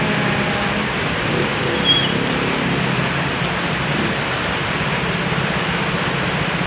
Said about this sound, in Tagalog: Ito na ulan, lakas ng ulan.